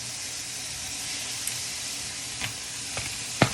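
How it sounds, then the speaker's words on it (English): Wagyu beef shoulder, about 2.5 pounds, browning in a pan for Filipino kare kare, giving a constant close sizzle with a few sharp pops and spatters near the end. "I'm just browning it."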